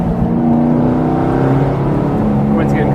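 A V8 LS3-swapped ND Mazda Miata drives on the street, its engine droning low and steady up close and rising slightly, heard from inside the car.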